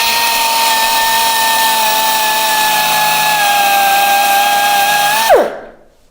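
A running abrasive belt grinds the burr off a metal edge, a loud continuous whine with a steady high tone that holds, then drops sharply as the workpiece comes off and the sound fades out.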